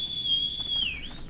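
A single sustained whistle from a character in the medieval survival game Life is Feudal, a clear steady tone that dips and fades near the end, heard alone.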